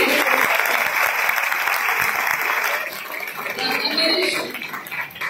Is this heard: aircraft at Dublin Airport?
no